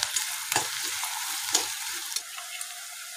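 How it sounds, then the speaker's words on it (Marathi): Chopped onions sizzle in a hot pan on high heat, with a steady frying hiss and repeated scraping stirs of a spatula, close up. "आता आपण याला चांगला गोल्डन कलर येईपर्यंत परतून घेऊया।"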